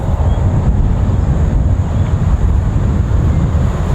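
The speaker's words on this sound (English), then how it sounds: "We got probably 50 k's of wind here right now" Strong crosswind of about 50 km/h blowing across an open golf course, a steady loud roaring buffet against the microphone with constant low rumble throughout and no talk.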